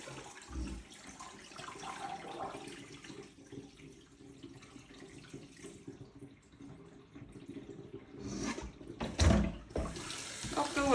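Water runs and splashes faintly while potatoes are rinsed in a tumbler tub, soft trickling through most of the stretch, then louder gushing bursts toward the end as it fills.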